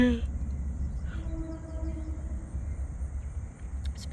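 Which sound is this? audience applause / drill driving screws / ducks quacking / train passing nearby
train passing nearby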